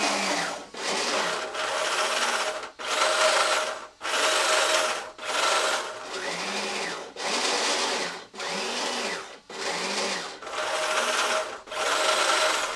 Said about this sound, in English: the other motor still works for the rotation, so I can rotate the arm this way as well